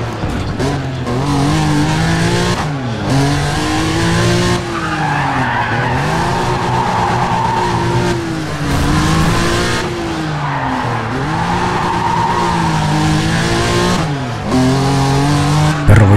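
A race car skids and squeals its tires in Need for Speed ProStreet, with a loud, sustained engine roar and long wavering tire screech under steady revving for the whole stretch.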